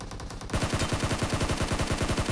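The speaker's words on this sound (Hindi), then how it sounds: "वो बंदा भाई M416 या फिर कौन सी गन चला रहा है, और वो भाई ऑटो में ऐसे ही चला रहा है" Sustained automatic fire from an M416 rifle in PUBG Mobile, a rapid even stream of loud close shots starting abruptly after a brief quiet moment and continuing without pause.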